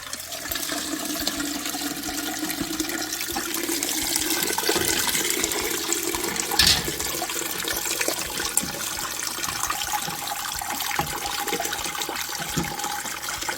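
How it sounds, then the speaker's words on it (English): Wort strained from a brewing bag after a 75-minute mash in a home kitchen pours and trickles steadily into a pot, a continuous close splashing stream with a brief heavier gush midway. "So just need to get the bag out, strain all the wort out of the bag."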